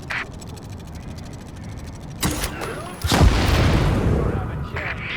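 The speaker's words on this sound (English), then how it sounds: "it's time to try your luck with the sticky bomb" A sticky bomb goes off in the shooter video game The Division. One sharp blast is followed by a second, heavier detonation and a loud, rolling rumble that fades slowly, with no one talking.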